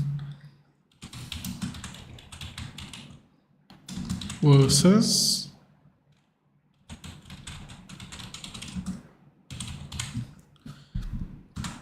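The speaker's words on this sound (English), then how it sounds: "Okay, where was I typing?" Typing on a computer keyboard in bursts of rapid clicks, moderately close, between stretches of someone talking, with a brief louder spoken passage in the middle.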